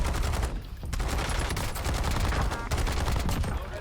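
AMAX assault rifle fired in the Warzone video game: rapid automatic bursts of close, loud gunfire with short pauses between strings of shots, no voices.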